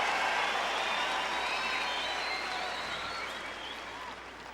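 Sustained applause from a tennis crowd at a final, a dense wash of clapping that fills the space and slowly tapers in volume over several seconds.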